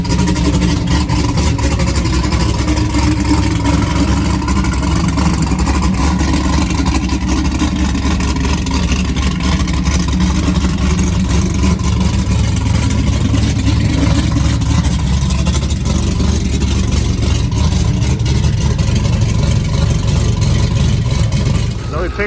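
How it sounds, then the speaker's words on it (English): Cadillac CTS-V with its exhaust resonators removed, a loud, steady low rumble with a choppy edge running the whole time, close by and continuous, with background chatter around the car. "They took the resonators out of the exhaust system, so now it's got a little bit of chop to it, as you can hear."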